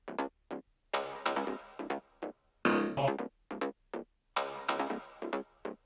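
Grid synths combined into a groove for an electronic track, short punchy synth stabs in a syncopated repeating pattern separated by brief gaps, fairly quiet and alone with no talking.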